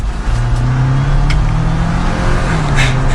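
Jeep Wrangler 4xe plug-in hybrid pulling away in electric mode, a steady low electric-drive hum and whir with road and wind noise, close and continuous, no voices.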